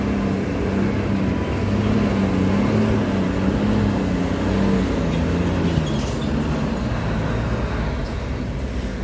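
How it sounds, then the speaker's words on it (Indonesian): Heavy truck engine with its air filter removed, hauling a 31-ton load while towing another loaded truck, giving a loud, steady, low droning roar throughout. "suaranya meraung karena saringan udaranya sudah dibuka."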